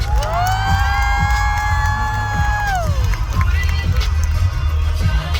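A crowd cheering and clapping at a stage event as a company executive is invited up, with a long sustained shout early on and steady rhythmic thumps beneath the crowd noise.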